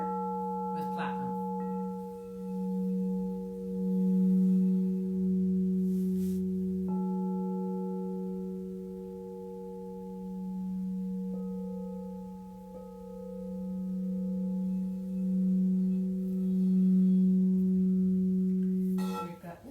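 Tibetan quartz crystal singing bowl made with copper and platinum, a steady sustained ringing tone with overlapping higher partials. A few soft struck accents land over roughly twenty seconds at moderate volume, without talk.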